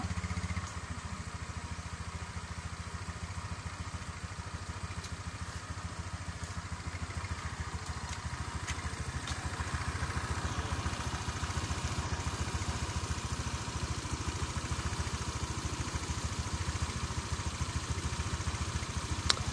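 A Honda Click motor scooter engine idles steadily at close range, a constant low putter with faint clattering and no voices.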